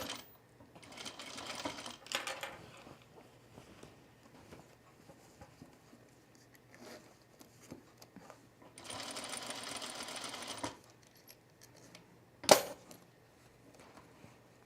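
An electric sewing machine stitches a seam on Cosecha pants near the zipper tape, running in two sustained bursts of fast, even stitching separated by quieter handling noise and a sharp click.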